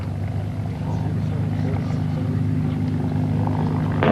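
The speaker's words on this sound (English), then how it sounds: "your P-51 is passing by" A P-51 propeller fighter passes by at the 1997 X-1 50th Anniversary Air Show at Edwards AFB, a droning engine rumble with a steady tone that swells near the end, with voices talking over it.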